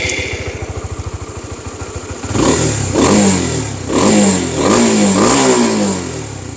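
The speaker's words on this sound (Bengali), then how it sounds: "তো চলেন এই বাইকের এক্সস্ট নোটটা আপনাদেরকে একটু শোনাই।" A Honda CB150X motorcycle, with an engine drawn from the Thai CBR150, idles with a rapid close putter, then revs up loudly in three rising and falling bursts.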